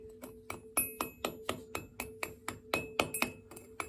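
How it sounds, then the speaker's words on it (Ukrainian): Repeated sharp hammer blows on a heat-resistant block made of ash and salt, about a dozen metallic-ringing strikes in a steady rhythm, close and fairly loud. "Ну, попробуємо ще по ньому молотком бахнути."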